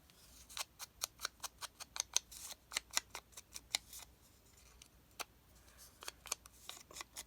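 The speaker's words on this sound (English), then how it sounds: "These scissors, I wish they weren't so difficult to use." Stiff, hard-to-use scissors snipping paper in a quiet room, giving a steady run of crisp, close clicks in uneven bursts with short pauses between them.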